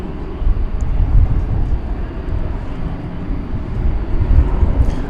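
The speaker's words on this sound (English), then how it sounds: "That's American Flight 1217. It's going to San Antonio, Texas." An American Airlines passenger jet, Flight 1217 bound for San Antonio, flies at Dallas Fort Worth Airport at night, a steady, loud, broad engine roar that holds without pause.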